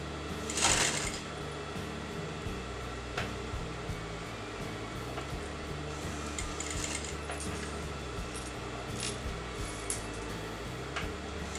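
A sewing machine runs at a steady hum while stitching a kameez neckline, with a short loud burst near the start and faint clicks and whirring throughout; no one speaks.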